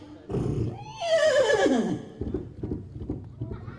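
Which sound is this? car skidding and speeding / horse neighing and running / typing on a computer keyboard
horse neighing and running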